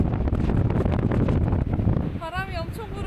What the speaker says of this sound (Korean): 바람이 엄청 불어